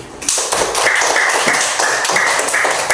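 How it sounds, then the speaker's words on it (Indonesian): Pupils in a classroom give a round of applause: quick, dense, steady clapping that starts after a short quiet moment and continues through to the end. "Aplaus dulu untuk Habibi."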